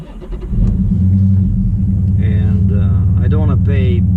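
A Dodge Challenger R/T Scat Pack 392 fitted with shorty headers fires up and settles into a loud, deep, rumbling idle. A voice speaks over the engine for the last couple of seconds.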